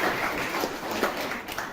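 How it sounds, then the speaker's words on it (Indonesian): Students in a junior high school classroom in Amlapura, Indonesia, applaud a group after its presentation on acids and bases, with steady, fairly close clapping running throughout the short stretch. "Kasih tepuk tangan dulu."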